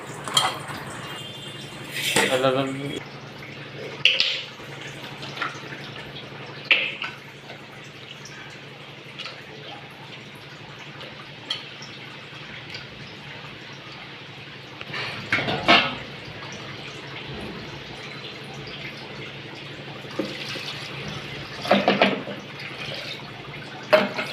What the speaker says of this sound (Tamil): முதல்ல கொஞ்சம் தண்ணி ஊற்றி அந்த கறியை நல்லா கழுவி விடுவோம்